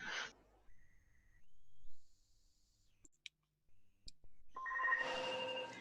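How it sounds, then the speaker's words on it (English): A telephone rings in an indoor room, its bright electronic trill swelling up near the end after a quieter stretch of faint clicks and room noise. "Oh, that'd be the phone."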